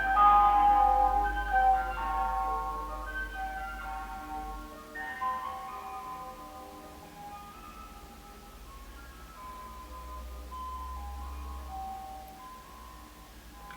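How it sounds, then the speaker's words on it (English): An ice cream truck's chiming jingle plays a bright, repeating melody from the street, fairly loud at first and then fading a little as it carries on alone without talk. "ice cream trucks in this country really upset me. Like that is a horrifying sound."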